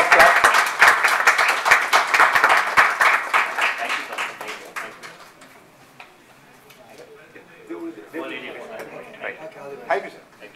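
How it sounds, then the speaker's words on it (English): An audience at a health insurance summit applauds with dense clapping that fades out after about five seconds, followed by murmurs and scattered sounds in the hall. "Round of applause."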